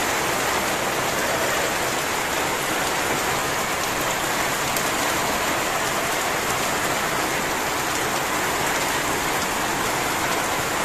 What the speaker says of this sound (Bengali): প্রচুর গরমে হঠাৎ করে বৃষ্টি নেমে গেল